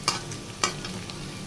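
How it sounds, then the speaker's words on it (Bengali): Onions fry in hot oil for beresta, a low steady sizzle broken by two sharp scraping stirs of a spatula in the pan. "তো চলো, এটা আমার ভাজা ভাজা হয়ে যাক"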